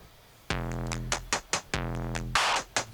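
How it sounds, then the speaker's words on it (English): An 808 drum run through a Big Muff fuzz emulator with saturation and compression, playing several booming, distorted, pitch-dropping hits in quick succession, loud and up close. "we have an 808 here with like a Big Muff emulator"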